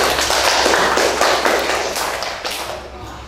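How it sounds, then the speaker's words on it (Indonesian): A classroom audience applauds a student group during a teaching-practice lesson, with many hands clapping in a dense, steady burst that gradually tapers off toward the end. "Dan kita sekali lagi beri aplaus kepada kelompok"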